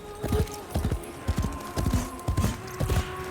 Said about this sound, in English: It's another baby horsey.